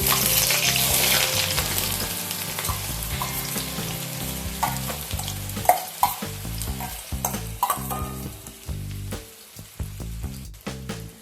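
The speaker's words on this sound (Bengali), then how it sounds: "পেঁয়াজটাকে লাইট ব্রাউন করে ভেজে নিতে হবে।" Three large sliced onions fry in hot oil with a loud, continuous sizzle, broken by frequent clattering stirs and scrapes of a spatula against the pan, with no voices.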